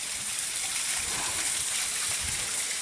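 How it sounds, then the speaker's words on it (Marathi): Steady rushing hiss of a waterfall stream pouring at Chhabimura, Tripura, a continuous close wash of falling water with no other sounds. "झरा आहे, झरा."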